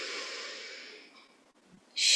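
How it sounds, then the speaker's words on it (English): A long, deep inhaling breath during a meditation session, a close, steady airy rush that slowly fades, then a sudden loud airy burst at the end. "Inhale."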